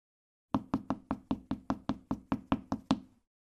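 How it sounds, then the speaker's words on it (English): Twelve even, sharp taps of feet land one after another in a steady quick rhythm, close and clear with no other sound around them. "Tap feet."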